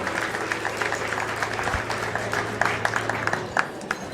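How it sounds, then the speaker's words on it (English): Guests at a wedding reception applaud the bride and groom, a steady round of many hands clapping that carries evenly through the whole stretch with no talk over it. "Applause for the bride and groom."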